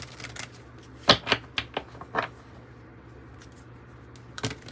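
Tarot cards being shuffled and pulled from a deck, heard as a few quiet, sharp snaps and riffles spread across a mostly hushed stretch, with one last flick near the end.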